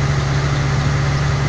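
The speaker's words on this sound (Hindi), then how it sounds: "गाड़ी की स्पीड कंटिन्यूसली स्लो होती जा रही है, शायद और गियर डाउन करना पड़े।" A truck labours uphill in low gear on an Indian highway, its engine giving a steady, loud, deep drone with a constant low hum and no break, alone with no talk.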